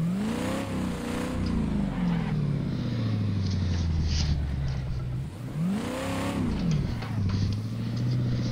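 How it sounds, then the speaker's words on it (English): Game engine of a 1992 Ford Falcon EB in a driving video game, reversing with a steady loud drone that swells twice as the revs rise and fall, with no talk over it. "I'll put the car in reverse."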